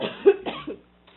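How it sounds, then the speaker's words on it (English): A couple of short, close coughs in quick succession, dry and throaty, followed by a brief quiet pause. "Waited till you coughed to call on you."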